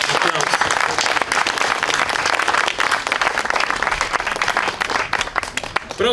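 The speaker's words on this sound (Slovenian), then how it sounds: "Mislim, da si zaslužite še en aplavz." Audience applause at a Slovenian live talk event after a guitar and violin performance of Monti's Csárdás, dense sustained clapping from a full room, loud and close, fading slightly toward the end.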